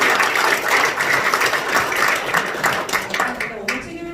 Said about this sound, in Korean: 여러분 모두 큰 박수로 축하해 주시기